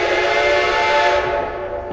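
A loud, sustained whistle from steam locomotive 2102 blows close by on a run between Nesquehoning and Penobscot, and fades off at the end.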